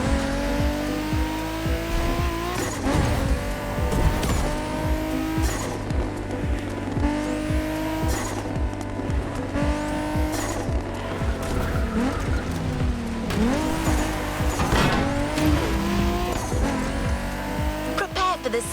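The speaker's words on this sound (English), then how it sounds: "There's an absolute classic heading your way, a grail among collectors and Jim's greatest pride, the Mustang Boss 429" A Ford Mustang Boss 429 in the racing game The Crew Motorfest roars steadily with engine drone and repeated loud tire squeals through corners, continuous and close with no speech.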